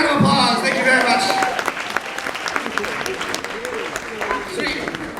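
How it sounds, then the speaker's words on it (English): Audience at a poetry slam final at a writers festival breaks into applause and cheering, loud at first and then thinning into scattered claps as voices talk over the crowd. "Give yourselves a round of applause,"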